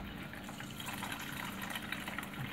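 Water being squeezed out of soaked homemade tobacco, a continuous close wet trickling and dripping that runs steadily throughout, with no speech.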